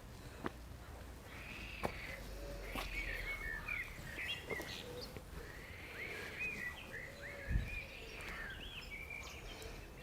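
Outdoor garden ambience in spring, with scattered bird calls and chirps at mid distance over a steady low background of croaking frogs and insects, plus a few brief close rustles or sniffs.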